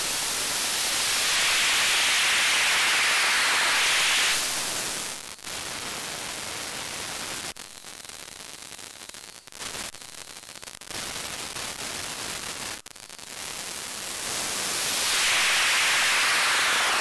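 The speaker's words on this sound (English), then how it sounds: "At some points we can get quite a nice white noise." Avalon Harmonics LOGx and kNOT logic gate modules on a synth generate loud, bright white noise that runs continuously, briefly cut by several abrupt dropouts and thinner stretches before returning at full strength.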